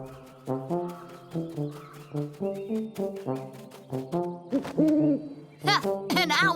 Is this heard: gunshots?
no